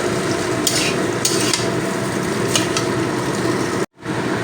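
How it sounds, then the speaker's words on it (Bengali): Chow mein noodles sizzle and hiss in a hot pan while a utensil scrapes and tosses them in periodic strokes, then a brief cut of silence. "চাউমিনটা আবার খুব ভালো করে ভাজা ভাজা করে নিতে হবে"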